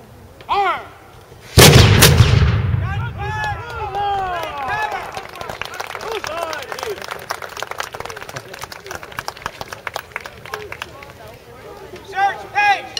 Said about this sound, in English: Battery fire, all guns.